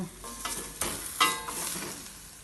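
Meat fries in oil in a pan, a close hiss broken by a few sharp spits and crackles over a short stretch.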